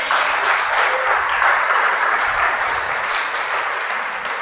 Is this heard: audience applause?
yes